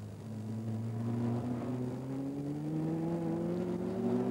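A Maserati 6CM historic race car running on track at a historic Grand Prix meeting at Montlhéry, its engine a steady droning whine that rises slowly in pitch as it accelerates, heard at a moderate distance.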